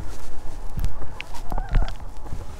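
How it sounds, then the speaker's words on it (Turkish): Free-range farm chickens cluck close by in short, irregular bursts, with a few sharper calls among them and soft background noise. "Tavuklar burada kafasına göre geziyor."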